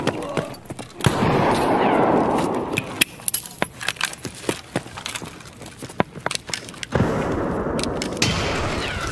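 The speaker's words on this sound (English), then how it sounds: "Oh, that grenade might kill me." A grenade explodes amid gunfire in a video-game firefight on the Factory map. Loud booming blasts frame a stretch of rapid, sharp gunshots and clattering impacts, all close and punchy.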